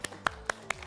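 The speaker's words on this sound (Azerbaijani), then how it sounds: "İndi Zümrüd müəlliməni alqışlayaq" A small audience in a school yard applauds a dance teacher, four sharp separate claps spaced evenly apart, fairly faint and close.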